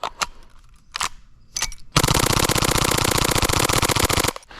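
A CO2 airsoft pistol fires a few single shots, then lets off a long, loud, rapid full-auto burst of evenly spaced cracks lasting over two seconds, close up.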